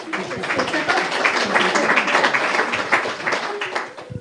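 A conference audience gives a sustained, dense round of applause welcoming a speaker, steady and fairly loud for several seconds before tapering off at the end.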